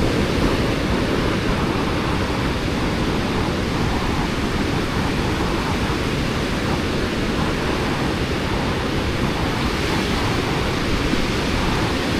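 Ocean waves at a clean beach in Widara Payung, Cilacap, a loud continuous roar of surf with steady broadband wash and some wind, no voices, lasting the whole stretch.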